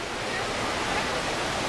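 Indoor Cascades waterfall inside the Gaylord Opryland hotel in Nashville, a dense, steady rush of falling water that fills the space evenly.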